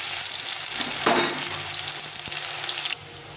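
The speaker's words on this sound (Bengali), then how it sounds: "এখন আমি পেঁয়াজগুলো ছেড়ে দেবো।" Onions hit hot oil over caramelised sugar for a goat mutton curry. A loud, continuous sizzle swells as they go in, with a brief stirring clatter partway through and no talking.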